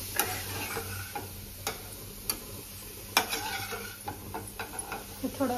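Ghee roasting in a pan with a steady low sizzle and scattered ticks and scrapes of stirring, close and fairly quiet, with no talk.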